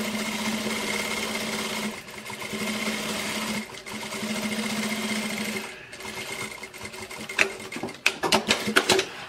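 A sewing machine runs steadily as it stitches along the seam of a handmade bag, with a continuous mechanical hum and whir, short pauses, and then a burst of rapid clicking toward the end.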